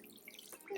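Tap water runs into a bathroom sink as a face is splashed with water, a brief steady close wash that swells louder toward the end.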